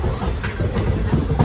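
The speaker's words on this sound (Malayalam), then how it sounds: "നമ്മൾ ട്രെയിനിൽ കയറി" Rumbling clatter inside a moving local train carriage in Kochi, with a steady low roar and faint rhythmic wheel clicks throughout.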